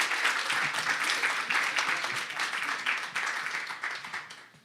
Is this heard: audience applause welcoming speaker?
yes